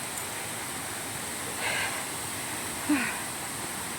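Falling water at Ton Nga Chang waterfall in Songkhla, a steady, broad rushing hiss heard from a distance, with a couple of brief faint sounds breaking in.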